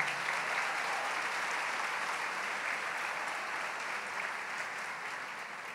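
A congregation claps steadily at a church gathering, a soft, continuous wash of applause heard from a distance with no single voice standing out.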